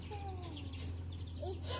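Chickens at a backyard coop clucking and chirping in short rising calls, close and moderately loud over a steady low electrical hum.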